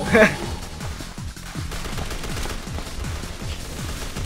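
Rapid, evenly spaced gunshots from shooting in Resident Evil 6 The Mercenaries, a steady burst of roughly a dozen sharp reports in quick succession over a faint game background.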